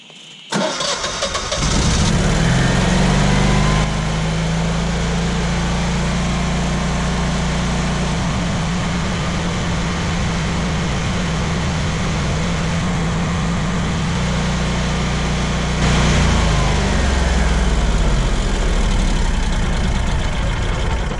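A Generac 22kW natural gas standby generator engine starts up and then runs at a steady, loud drone for about twenty seconds, with a slight shift in its tone partway through. No voices are heard over the engine.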